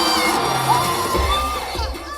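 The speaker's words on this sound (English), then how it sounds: "The cheering here is as much for the entertainment that comes with every Filipino campaign" A crowd cheers and shouts steadily at a Filipino election campaign rally, a dense mass of voices with some whoops rising above it, continuous and fairly loud.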